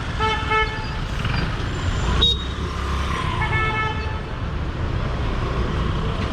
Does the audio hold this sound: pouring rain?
no